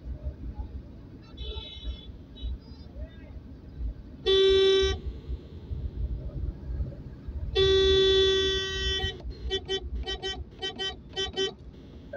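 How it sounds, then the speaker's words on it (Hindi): Car horns honking in heavy Karachi night traffic on the Lyari Expressway on a rally day: two long loud blasts, then a rapid series of short toots over the steady rumble of traffic. "एक्सेसिव हॉर्निंग मुझे करनी पड़ रही है"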